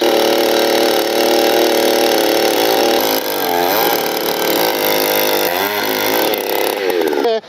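A cheap farm brush cutter engine runs continuously, a loud buzzing two-stroke drone whose pitch wavers up and down as the throttle shifts.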